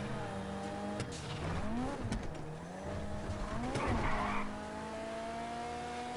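A car drifting in the video game GTA 5, its engine whining and rising in pitch while the tires squeal and skid through the turn. The sound is steady and fairly quiet, with no talking.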